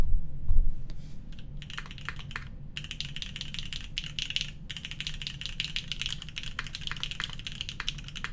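Rapid, steady keystrokes on an Angle65 mechanical keyboard with an aluminum plate, a dense stream of crisp clacks close up with brief pauses between bursts, and no voices.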